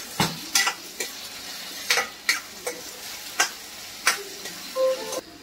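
A spoon stirs turmeric into sizzling spices in a pan, giving a quick, uneven series of close, sharp scrapes and clicks over a soft frying hiss, with no voices.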